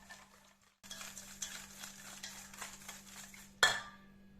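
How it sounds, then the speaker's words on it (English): Melted butter and sugar mixed in a bowl for banana bread, a quick run of rhythmic scraping and clinking strokes starting abruptly, close, ending with a sharp knock of the utensil. "Give that a good mix until the sugar is mostly dissolved."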